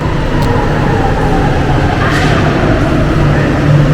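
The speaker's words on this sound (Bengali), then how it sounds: "এই যে ট্রেনটা চলে আসছে, এই ট্রেনে উঠে চলে যাবে।" A U-Bahn subway train pulls into a station in Stuttgart, Germany, with a loud, steady rumble and roar that fills the whole stretch.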